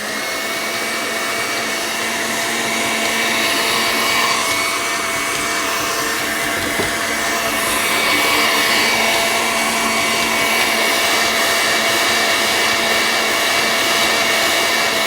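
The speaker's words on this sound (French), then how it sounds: "Je vais mettre mon batteur à vitesse maximum jusqu'à complet refroidissement." An electric mixer beats meringue at maximum speed, a loud steady close motor whine and whir holding for the whole stretch with slight swells and no talk.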